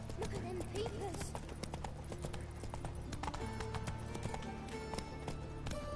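Hooves of the horse Roach clip-clop at a gallop in The Witcher 3, a quick steady rhythm running the whole time beneath loud game sounds and talking voices.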